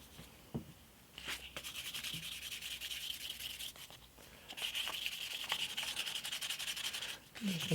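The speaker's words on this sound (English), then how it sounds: "I'm just going to continue sanding for a bit" Steady abrasive rasping of sandpaper worked over an oiled wooden handle for a Stanley 101 plane, close and continuous with short pauses and a few light knocks between passes.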